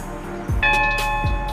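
A bright notification bell sound effect rings once with a clear, sustained chime that stands out above a low steady hum and fades slowly.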